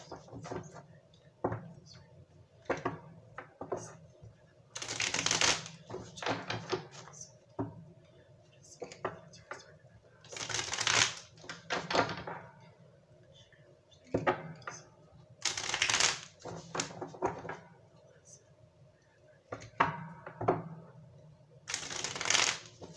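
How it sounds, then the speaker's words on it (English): Tarot or oracle cards are shuffled for a weekly reading, with repeated bursts of riffling and bridging every few seconds and softer card handling and taps in between, close and clear with no talking. "If you do not want to watch me shuffle on camera"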